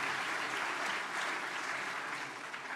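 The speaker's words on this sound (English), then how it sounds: "I got 1 clap." Audience applause at a 2024 sports and exercise therapy graduation ceremony, a steady dense wash of clapping from many hands throughout, with no voices on top.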